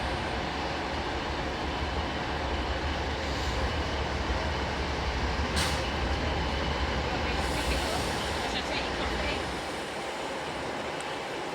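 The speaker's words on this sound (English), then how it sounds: "Also arriving in behind should be the 1603 Avanti West Coast service to Glasgow Central from London Euston." Avanti West Coast train 390040 arriving at Carlisle station, a broad steady rumble of wheels and motors rolling past nearby, with a brief high squeal and faint higher whines midway.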